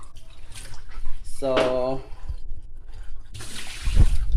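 Water is poured into a pot for cooking mung beans, giving short splashing and trickling bursts with gaps between them, while a person talks nearby.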